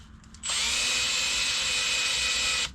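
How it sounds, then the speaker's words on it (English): A power drill spins a honing cone inside a wooden ring held in a vise, starting abruptly after a few soft knocks and whining loudly and steadily before stopping. "So basically that cone, you throw it on the lathe, but I just put it in a drill here."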